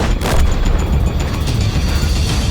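A tank's main cannon fires in World of Tanks, a loud booming blast with rumbling low end that fills the short stretch, with no voices over it.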